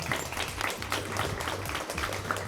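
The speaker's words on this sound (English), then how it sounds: "Yes, round of applause for everybody." An audience claps at a high school quiz bowl tournament, a quiet, brief patter of applause with speech running underneath.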